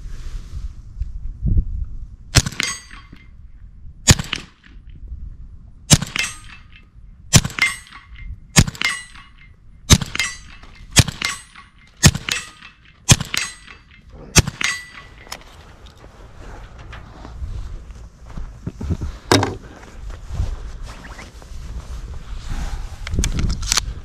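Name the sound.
suppressed Ruger Mk4 22/45 pistol shots, plinking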